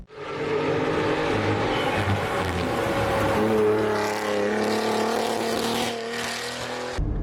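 A 625 WHP Cadillac ATS-V is driven hard on a track, its engine roaring loud and close from inside as the revs climb and shift, steady with no pauses.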